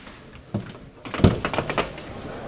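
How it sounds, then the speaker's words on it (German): A door on an Iveco Eurocargo 4x4 overlander motorhome is handled close by, with a soft thunk followed by a few quieter knocks and rattles against a low, hushed background. "Mach nochmal auf die Tür. Ich mach das hier nochmal auf."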